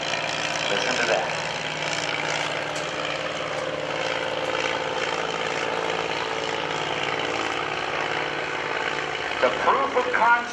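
A 1911 Curtiss Pusher's engine and propeller run steadily at an airshow, a continuous droning roar with broad noise throughout, slightly rising near the end, with crowd voices mixed in underneath.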